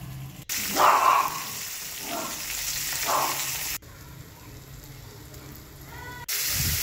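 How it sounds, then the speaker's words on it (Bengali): Rohu fish pieces frying in hot oil in a kadai, coated with garam masala, salt and coriander-cumin powder, giving a steady close sizzle with a few brief louder bursts and spells of stirring. "মাছটা আমি এখানে ভালো করে লাল করে ভেজে তুলে নিচ্ছি"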